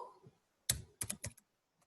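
Computer keyboard typing, a short run of a few crisp key clicks close up after a quiet start, with no talk.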